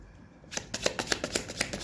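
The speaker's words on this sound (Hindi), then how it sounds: "पहले मैं यहाँ से भी कुछ कार्ड्स ले लेती हूँ।" Playing cards being handled and shuffled, a quiet pause followed by a quick, close riffle of crisp regular flicks.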